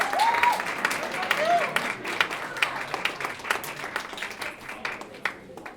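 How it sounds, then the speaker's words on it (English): Crowd at a university literacy-through-song performance event claps and whoops for performers being introduced. The applause starts full with high whistle-like cheers, then thins into scattered individual claps. "Give them a round of applause."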